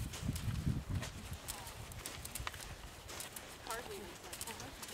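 Horse hooves beat out a canter rhythm in an arena during a riding lesson with counter canter work, the soft thuds close and steady under a coach's spoken instructions.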